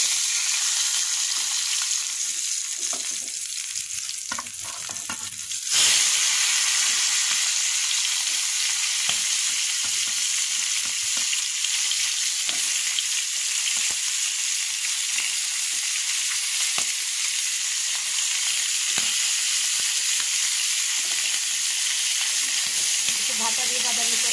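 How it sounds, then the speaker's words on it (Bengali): Rohu fish heads coated with turmeric and salt fry in hot oil in a pan, giving a steady crackling sizzle that is quieter at first, then jumps louder and holds evenly throughout. "এটাকে ফ্রাই করে নিচ্ছি।"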